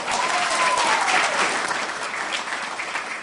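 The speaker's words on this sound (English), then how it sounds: "How about a round of applause for that?" Audience at a disability awareness event bursts into applause, a full, sustained clapping that starts strong and slowly eases, with a faint whistle-like tone early on.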